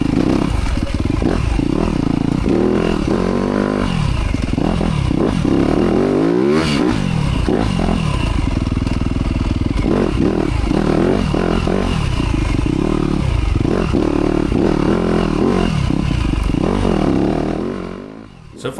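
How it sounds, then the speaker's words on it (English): A 2025 Yamaha YZ250F dirt bike engine lugs at low revs through a tight off-road section, loud and close with steady throttle swells, chain clatter and scraping, then fading out at the end. "so this will be a good test for lugging the bike"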